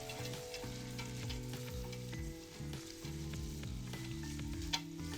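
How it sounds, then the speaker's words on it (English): Vegetables stirred in hot oil sizzle steadily in a pan, with soft scraping and tossing sounds over a low, constant frying hiss and no talking. "Gonna give that a nice mix"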